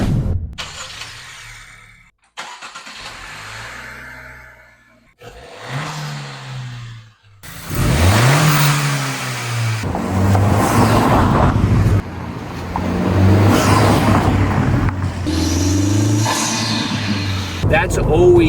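Turbocharged 2026 Honda Civic Si fitted with a high-volume air intake, revving in short bursts then building into longer loud engine pulls with whooshing intake noise, with a voice talking over parts of it.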